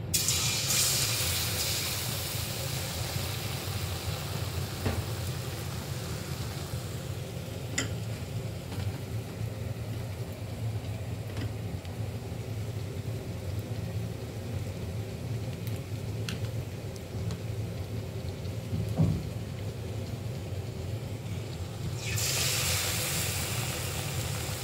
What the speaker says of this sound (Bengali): এবার আমি একটি একটি করে ছেড়ে দেবো তেলের মধ্যে